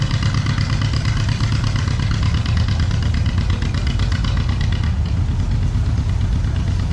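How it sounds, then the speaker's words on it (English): A John Deere Model MT tractor with a two-cylinder upright engine runs at a parade at a steam and gas engine show in Pawnee, Oklahoma, giving a loud, continuous, close-up rumble with steady rapid beats. "The small John Deere has the two-cylinder upright engine rather than the"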